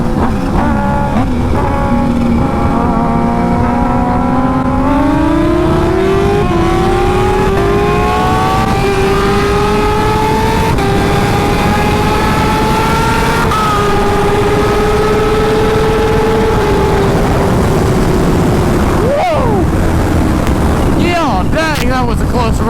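A 320-horsepower Kawasaki Ninja H2 motorcycle races at high speed, its engine note climbing through the gears in rising whines under loud, constant wind roar, with a brief thump near the end.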